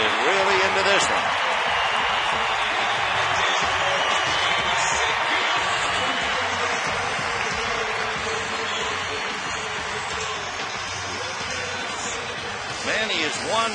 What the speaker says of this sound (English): the crowd is really into this one